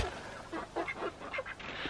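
Chickens cluck and squawk in a busy scatter of short calls at moderate distance over steady background noise, with no talking.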